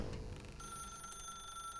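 A telephone rings in The Stanley Parable video game, a steady electronic ring that holds through the short moment, clear and fairly loud with no voices over it.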